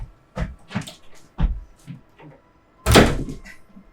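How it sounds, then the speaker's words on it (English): A door opens and closes indoors with several knocking thuds and rattles, followed by a louder closing bang near the end, heard fairly close with some faint background movement. "I heard the door again."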